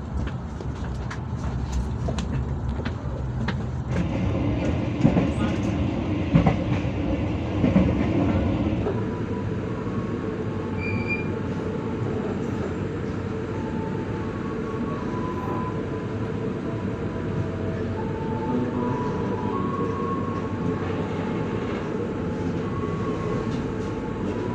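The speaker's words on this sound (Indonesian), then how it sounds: "KA Bengawan kembali diberangkatkan dari stasiun Lempuyangan Yogyakarta jam 21:23" Indonesian KA Bengawan passenger train running at night out of Lempuyangan station in Yogyakarta, heard from inside as a steady loud rumble with rolling wheel noise and faint rattling, with no talk.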